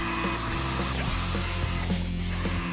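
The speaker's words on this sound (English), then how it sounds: "I want you to get everything drilled into this wall" Power drill driving screws into a house wall, a close whirring motor with short bursts and changes in pitch, loud and without speech.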